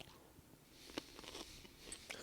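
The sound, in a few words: crunching bite of a pickle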